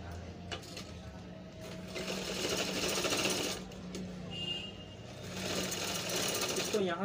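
Sewing machine stitching the waistband of a pair of trousers, a rapid mechanical whirring chatter in two runs separated by a brief pause, close and steady.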